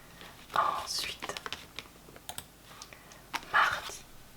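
Soft, close typing on a new PC keyboard in a quiet room, a few scattered clicky keystrokes and short clusters of taps, with faint whispering in between.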